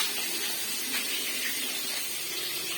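Fish pieces dropped into hot oil set off a steady, close, hissing sizzle, broad and even throughout the short moment, with no voices over it.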